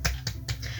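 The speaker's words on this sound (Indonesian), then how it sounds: "coba kita tepuk semangat dulu." Three sharp, evenly spaced claps ring out close up in a kindergarten class during a rhythmic spirit clapping chant, each a crisp snap followed by a short pause.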